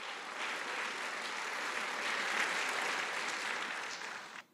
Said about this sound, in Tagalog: Yan ang pumalakpak mga tao rito.